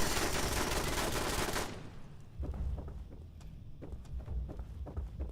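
Automated turret machine gun fire in Fallout 76, starting as a loud dense burst of rapid shots, then breaking off into scattered sharp cracks over low rumbling noise.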